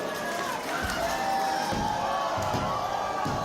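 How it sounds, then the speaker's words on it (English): A wrestling crowd in Saskatoon cheers wildly during a chaotic brawl, a continuous roar of voices with thuds and slams from the ring breaking through. "This crowd has come unglued here tonight in Saskatoon."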